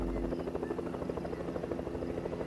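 A helicopter's rotor thumps steadily with an engine drone in Fortnite, loud and continuous, like a nearby aircraft hovering overhead.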